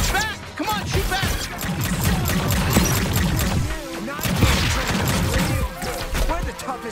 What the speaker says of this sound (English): they're shooting at us. Come, shoot back.